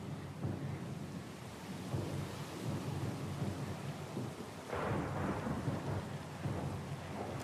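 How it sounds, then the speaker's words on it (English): Thunderstorm at sea in Pillars of Eternity 2: steady heavy rain and rumbling thunder fill the whole stretch, with a louder thunder roll surging in about two-thirds through, all without speech. "Lost and alone in the storm?"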